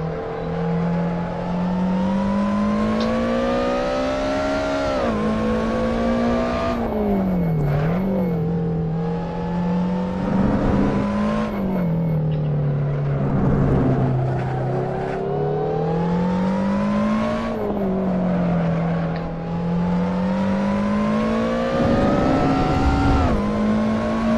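Race car engine in Assetto Corsa, loud and continuous, revving up through the gears with steady rising pitch sweeps, brief dips at each shift, and heavy roaring from start to finish.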